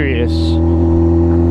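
A BMW goes by close to a stationary rider on a Honda CBR motorcycle, a steady, loud engine drone holding an even pitch throughout.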